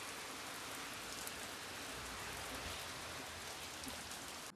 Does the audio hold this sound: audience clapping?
no